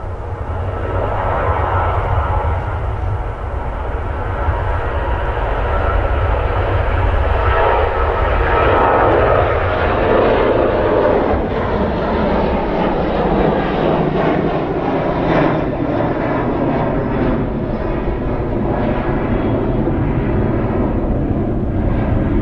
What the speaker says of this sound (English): We've got another aircraft taking off. I think it is a Ryanair.